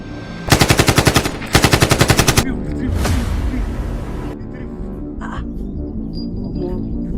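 Two rapid bursts of automatic gunfire, each about eight evenly spaced shots, ring out loud and close, followed by a boom and lingering echoing rumble as a voice speaks faintly afterward.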